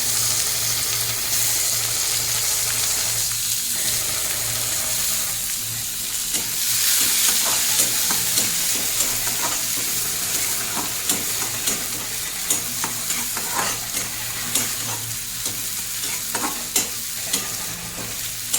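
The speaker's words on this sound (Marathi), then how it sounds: "टोमॅटो पण चांगलं परतून घ्यायचं याच्यामध्ये" Chopped tomatoes sautéing in a pan for masala Maggi, a steady close sizzle and hiss with repeated scraping stirs of a spoon through the mix, no talking.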